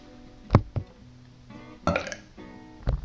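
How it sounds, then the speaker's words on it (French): A person burps several times, loud and close, with short low belches spaced a second or so apart and brief pauses between them. "Je ne fais que de roter, c'est fou ça."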